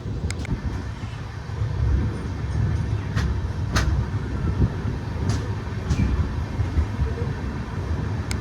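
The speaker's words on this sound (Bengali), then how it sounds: "এই মুহূর্তে আমাদের গাড়ি স্কিপ মারছে জঙ্গিপুর রোড স্টেশন" An express train runs through Jangipur Road station with a steady low rumble and rattle heard from on board, broken by a few sharp clicks and knocks of passing track joints, no talk.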